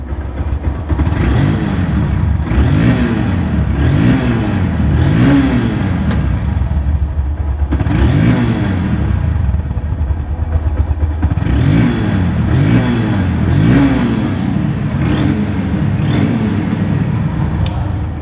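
A second-hand motorcycle with no battery runs close by, its engine revved repeatedly in rising and falling surges over a steady running note, with no talk.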